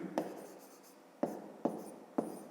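A pen writes out a fifth-grade math solution on paper, giving a faint, close scratching broken by a few sharp taps as strokes begin, with no talking.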